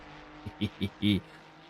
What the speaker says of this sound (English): I should rather put the car sound back, right?